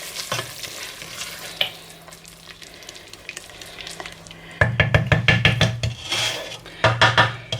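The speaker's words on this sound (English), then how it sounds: "Give it another stir." A wooden spoon stirs hot Scottish tablet mixture with vanilla in a pan, with soft scraping strokes at first, then a run of loud, rapid, rhythmic scrapes and knocks against the pan close by. No one speaks.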